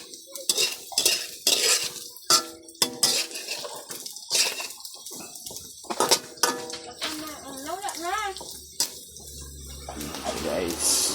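Cabbage leaves being sautéed in a pan give repeated metallic stirring scrapes and clinks over a soft sizzle, close and busy, and a voice speaks partway through.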